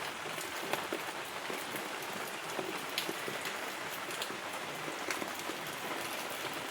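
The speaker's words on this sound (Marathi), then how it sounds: "बघा कसा पाऊस येतोय, सारखा चालू आहे, थांबायचं नावच घेत नाहीये." Steady rain falls continuously on surfaces around a home in the morning, a dense, even hiss with scattered sharper drop patters throughout and no voices.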